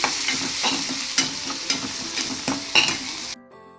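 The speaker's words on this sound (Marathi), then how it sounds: "सो कांदा चांगला परतून झाला आहे" Onion sizzles in a tempering with asafoetida while a spatula stirs and scrapes it in rhythmic strokes over a close, steady frying hiss. The sound cuts off abruptly near the end.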